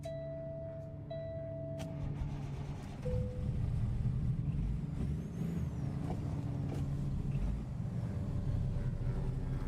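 A semi-truck engine idles and runs in American Truck Simulator: a steady, deep diesel rumble that swells louder partway through, with brief hissing and faint tonal beeps over it and no talking.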